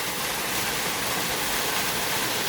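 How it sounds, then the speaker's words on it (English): Queens Waterfall at Siatbakon, Meghalaya, India, pours in a steady, dense rush of falling water that fills the whole clip evenly, with no voices over it. "natural sound of waterfall."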